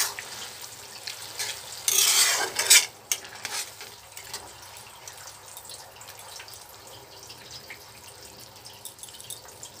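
Boiled noodles tip into a pan of thupka gravy with a brief loud splashing rush, then softer stirring and faint bubbling carry on quietly.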